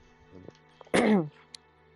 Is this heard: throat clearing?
yes